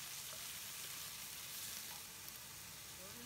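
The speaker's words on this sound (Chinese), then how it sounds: "然后再放进肉丁，翻炒。" Diced pork stir-fried with minced ginger for traditional Beijing zha jiang sauce, a soft, even sizzle that runs steadily throughout, faint and without talk.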